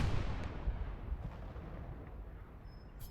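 A distant tank cannon booms in Gates of Hell, a low, muffled rumble that fades slowly over a few seconds with faint battlefield noise behind it.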